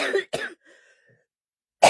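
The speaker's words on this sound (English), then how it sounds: "And apparently a cough." Two quick coughs close to the mic, a short pause, then another cough begins.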